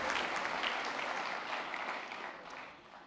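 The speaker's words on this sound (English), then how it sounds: "Give yourselves a round of applause." Audience applause at the 2024 LEAFYs college awards ceremony, a soft wash of many hands clapping in a room, steady then slowly fading, fairly distant and quiet.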